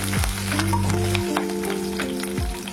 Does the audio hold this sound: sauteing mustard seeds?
yes